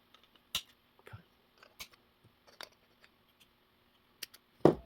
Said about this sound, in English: So let's just cut it. just cut it like this.